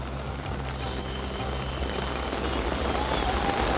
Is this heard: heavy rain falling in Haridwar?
yes